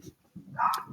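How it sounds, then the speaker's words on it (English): A single sharp dog bark rings out close by, preceded by a short low grunt or whine. "He always decides to bark when I'm recording"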